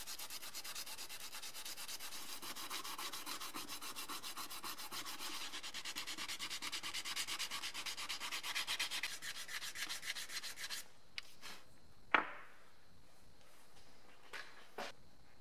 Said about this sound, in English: I'm going to remove most of the old paint and add some fresh coats.